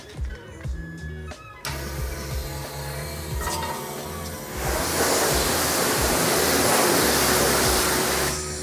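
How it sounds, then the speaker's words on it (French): Pressure-washer spray rinsing a quad bike, aimed under the wheel arches to clear off dirt. It begins as a quieter hiss with rattles, then turns into a loud, steady broadband rush that lasts several seconds. "Et maintenant, on va passer au rinçage."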